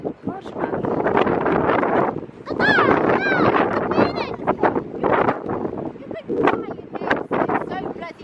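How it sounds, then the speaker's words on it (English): Gusty coastal wind buffets the microphone in heavy, uneven rumbling bursts, while several people talk and shout over it close by. "It's so bloody windy."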